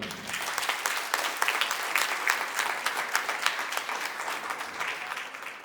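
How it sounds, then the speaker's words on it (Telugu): Dense, sustained clapping from a seated audience at a stage event in an Ayurvedic ashram, many hands at once, steady and fairly loud before tapering slightly. "చప్పట్లు"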